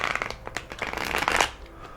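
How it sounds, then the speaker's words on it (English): A deck of playing cards is shuffled close by, a quick run of riffling and flicking snaps lasting about two seconds, with no talking over it. "And I'm shuffling the cards here."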